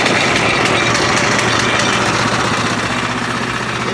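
Frontier Sawmills OS23 sawmill engine running after start-up, a loud, steady, dense mechanical drone with fast knocking vibration that fills the whole clip, close and with no talk.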